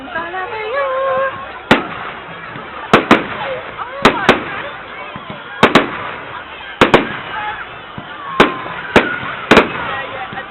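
Fireworks on bonfire night bang repeatedly, sharp cracks in irregular pairs and singles over a continuous backdrop of crowd chatter and voices.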